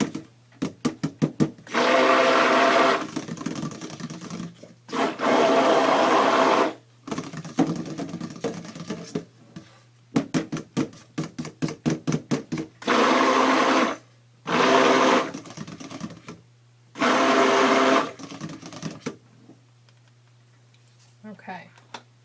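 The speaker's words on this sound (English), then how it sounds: "hit this real quick with my stick blender" A stick blender mixing cold process soap batter with calendula petals, running in loud bursts of a few seconds each, separated by rapid taps and clicks of pulsing and stirring, with a low steady hum underneath.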